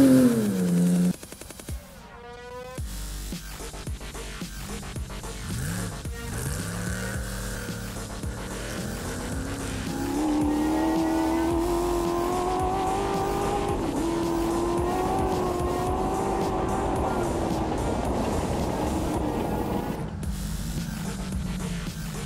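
Race cars lapping in a 400 enduro race on a last lap, engines roaring close with shifting pitch as cars pass, a brief loud burst at the start and a sustained drone through most of the stretch.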